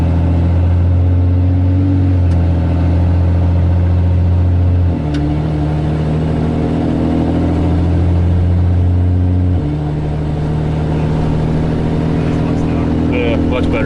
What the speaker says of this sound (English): we're gonna take a little drive and see how it shifts